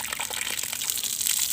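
Water rushing under pressure from a repaired pipe at a construction site, a steady, loud gushing hiss that runs without a break for the whole short moment.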